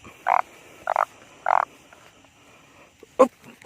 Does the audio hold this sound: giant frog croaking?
yes